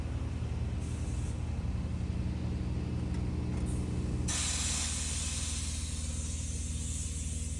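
Compressed air hisses steadily out of the brakes on a heavy haul truck's trailer, a constant loud spray over a low engine rumble, growing brighter and harsher midway and continuing unbroken to the end.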